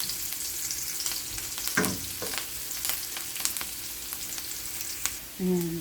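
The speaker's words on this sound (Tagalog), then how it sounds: "Tapos, lagyan na po natin ang paminta. Halo-haloin." Cracked pepper is stirred into a hot pan for squid adobo, with steady crackling sizzle and occasional scrapes of the utensil throughout, and a brief spoken word near the end.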